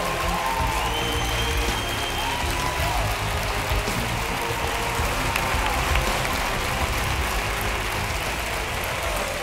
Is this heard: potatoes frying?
no